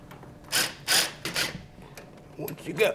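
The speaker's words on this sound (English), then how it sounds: "Now I can go ahead and run those out." Caliper bracket bolts are unscrewed from the spindle during brake work, giving short, uneven bursts of metallic scraping and turning, close and moderately loud.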